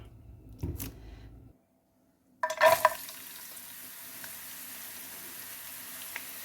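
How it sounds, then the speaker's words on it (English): A frying pan with a little oil heats up for Indonesian fried rice. After a brief clatter and a moment of quiet, a sudden hiss bursts in, then settles into a steady, close sizzle. "I'm going to heat up the pan and add a little oil."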